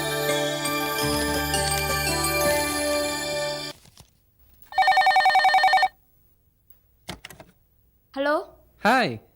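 A telephone bell in a Tamil TV serial rings in short loud bursts after a stretch of background music, with brief speech-like sounds following the rings.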